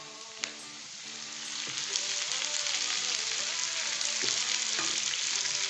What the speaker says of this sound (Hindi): लेमन जूस, ये दोनों चीज़ें ऐड करने के बाद अब आप इसको मज़ीद फ्राई करेंगे।